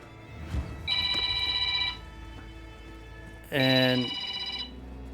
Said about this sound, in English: I don't answer my phone when I don't recognize the number.